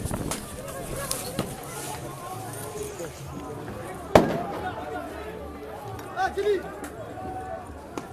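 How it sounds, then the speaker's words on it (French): A dispersion grenade goes off at a street protest as a single sharp, loud bang midway through, amid crowd noise, running feet and someone talking nearby. "Bombe désencerclante."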